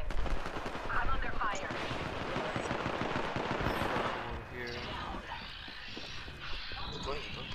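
Rapid automatic gunfire and explosions from the video game Apex Legends crackle loudly and densely for several seconds, then thin out, with a player talking over the combat.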